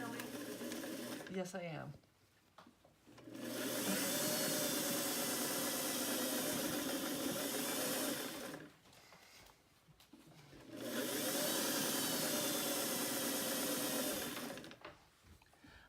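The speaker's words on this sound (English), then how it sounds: "I am sewing a 4/8 inch seam" A sewing machine top stitching a pant hem at about eight stitches per inch, running in two long steady whirring bursts separated by pauses, close and loud, with a brief spoken reply before the first run.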